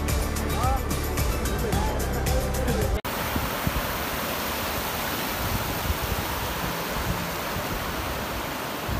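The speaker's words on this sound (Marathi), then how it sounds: "इकडे जास्त लांब असा धबधबा आपल्याला बघायला मिळतो" A long waterfall in a village landscape gives a broad, steady roar of rushing water; the first few seconds carry a different mix with voices before an abrupt cut to the continuous torrent.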